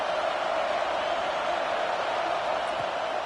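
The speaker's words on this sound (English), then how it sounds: "The Tide crowd rolling noise down on the Saban field on third down." Alabama Crimson Tide stadium crowd roaring on third down at a college football game, a steady, dense wash of loud crowd noise that holds unbroken and evenly throughout.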